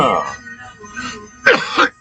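Coughing and throat clearing from a person who has just smoked mild cannabis, a few rough bursts with a strong pair near the end, close and indoors.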